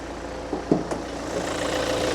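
The 2.2 engine of a used Kia Carnival SUV with about 70,000 km idling, a steady, close mechanical hum with a few brief knocks near the start.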